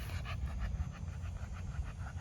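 A dog pants steadily and close up, with quick rhythmic breaths and no talking.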